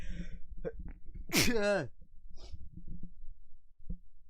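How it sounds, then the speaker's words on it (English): A single loud sneeze bursts out after a few quick breaths and sniffs, followed by quiet breathing and small mouth noises. "After I've sneezed."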